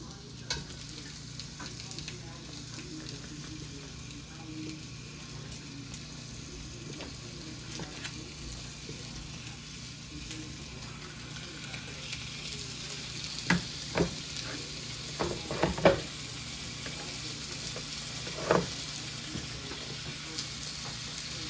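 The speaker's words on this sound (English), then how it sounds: "Let those sizzle away." Meat sizzles steadily in a frying pan, a soft continuous crackle with a few sharper pops and clinks later on.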